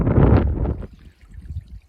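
Water trickles at a trail water source on the Colorado Trail, a close burbling splash that is fuller at first and then thins to a soft dribble.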